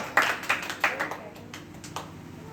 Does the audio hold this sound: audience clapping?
yes